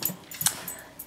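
A dog gives a few soft, brief whimpering whines at close range with short pauses between them, thin and high-pitched in a quiet indoor setting.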